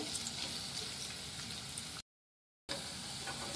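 Onion sautés in a pan for prawn biryani, giving a steady, even sizzle with a short silent gap partway through.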